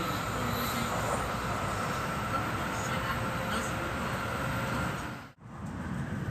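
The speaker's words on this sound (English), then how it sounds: "The train entered the Shin-Kanmon tunnel." A Hikari Shinkansen runs through the Shin-Kanmon undersea tunnel with a dense, constant roar of wheels and rushing air, loud and unbroken, with one brief dip near the end.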